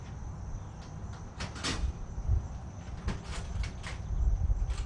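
A metal drawer holding metric hardware slides open in a workshop during a heat deflector install on a 2018 Harley-Davidson Sport Glide FLSB, with a few rattling clinks and scrapes over a low background hum.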